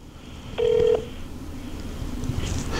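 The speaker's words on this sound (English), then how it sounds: "Now I call Jason, and hopefully, okay, there's Jason's number ringing." An outgoing phone call placed to a contact, to be merged and recorded: a single steady ringback tone sounds for about half a second near the start, then a quiet line hum with no speech.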